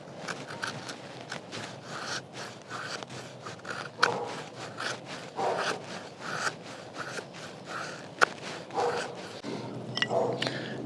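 A folding bushcraft knife with a full flat grind shaving curls from a piece of wood: repeated short scraping strokes, close and steady, with occasional sharper snaps and light rustling throughout.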